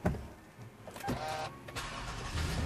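Engine start on a 2011 Toyota Sienna with keyless push-button ignition: a short cranking whir around the one-second mark catches into a steady idle hum, recorded from inside the cabin with some faint clicks.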